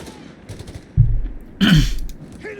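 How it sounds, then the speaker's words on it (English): Short bursts of .30 cal machine gun fire in Company of Heroes 3, two sharp close volleys about half a second apart, over quiet battlefield background. "We do actually, in fact, have a 30 cal out to especially deal here with Xizi's tendency just marching assault guns off"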